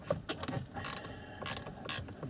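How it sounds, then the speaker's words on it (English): Size 10 ratchet spanner with a Torx 30 bit loosening an airbag screw in an Audi A4 steering wheel, a series of close, quick ratchet clicks in short bursts. "put in a Torx 30 bit, like so, and get a size 10 ratchet spanner"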